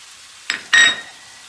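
Rice being sautéed in a pan with cumin, cinnamon and allspice for Turkish iç pilav gives two short sizzling bursts, the second louder and longer, each a quick hiss of stirring over a quiet background.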